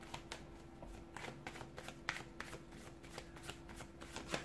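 A deck of tarot cards being shuffled by hand at close range, soft riffling and flicking in quick, fairly regular bursts at a quiet level with no talk.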